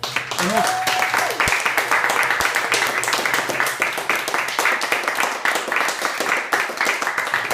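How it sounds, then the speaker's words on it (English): Applause from an audience at an evening gathering, a steady broadband wash of many hands clapping close and fairly loud for several seconds, with voices murmuring underneath. "can we have A big round of applause for Ben."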